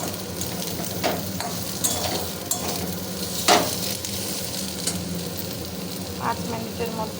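Mixed vegetable bhujia with potatoes fries in a pan, a continuous close sizzle broken by occasional clinks and scrapes of a spatula stirring through it.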